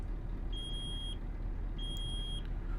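Truck warning beeps in the Euro Truck Simulator game, two steady high beeps each lasting over half a second, over a continuous low engine rumble, with no talking.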